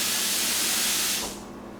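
Juice from a jar of diced roasted peppers drains in a steady, close hiss and splash for over a second, then tapers off quickly.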